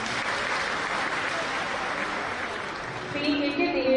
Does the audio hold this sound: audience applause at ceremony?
yes